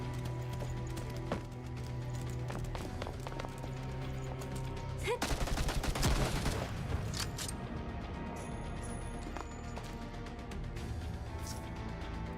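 Gunfire in the video game Girls' Frontline 2 erupts in a dense burst of rapid shots midway, over a steady backdrop of game music and ambience, with sparse sharp reports before and after.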